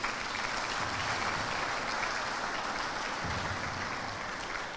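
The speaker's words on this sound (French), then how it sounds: "Je voudrais aussi qu'on applaudisse cet accueil de KPCF." Sustained, steady applause from a large crowd of supporters at a political convention in Guadeloupe, a thick even roar of clapping that holds at constant loudness throughout.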